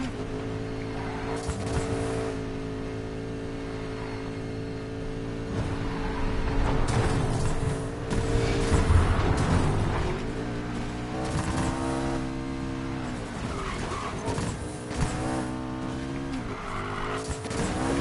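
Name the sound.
McLaren 570S tires squealing on a turn in Need for Speed Payback video game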